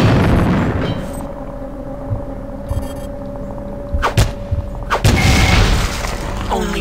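An alien egg bursting in System Shock 2 gives a sharp, punchy boom followed by a second louder burst. Both stand out over a humming, droning background, and no one speaks.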